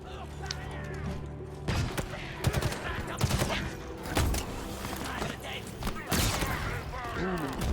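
Halo Infinite gameplay with sharp, loud sniper rifle shots and bursts of gunfire over a tonal game soundtrack, with players talking in between.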